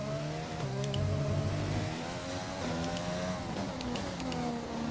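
Race car engine in the F1 2020 video game at the Hungarian Grand Prix during heavy rain, a steady close-up engine drone with shifting revs and pitch changes running throughout, with no talk over it.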